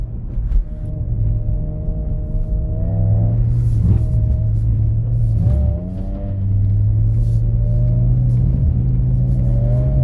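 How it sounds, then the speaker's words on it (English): A BMW drifting on a winter road, its engine droning loud and close with rising and falling revs and a deep rumble, the pitch wavering as the throttle is worked in sport mode. "Honestly, it feels like sketchy drifting with sport mode on."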